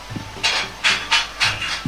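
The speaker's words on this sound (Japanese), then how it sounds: "まずはタケノコの水煮を食べやすい大きさにカットしていきます。" Knife cutting boiled bamboo shoots into pieces on a cutting board, four crisp slicing crunches with soft knocks of the blade against the board, close and clear with no talk.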